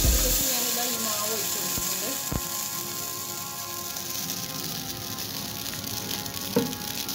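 Jackfruit appam batter poured into a hot pressure cooker sizzles and hisses steadily up close, with a few light clinks of the utensil and a voice talking over it at times.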